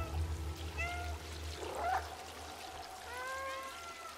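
A cat in the video game Stray gives two short, clear meows, one early and one near the end, over a steady low game hum with a faint trickling-water background.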